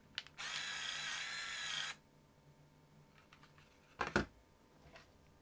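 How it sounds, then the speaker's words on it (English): A Somfy electric roller blind motor, bench-tested after repair, whirs briefly for about a second and a half with a steady high hum, then stops, followed by a couple of quiet clicks and a short rattling clunk. "Now this will only run the motor for a short period of time because this won't be rotating"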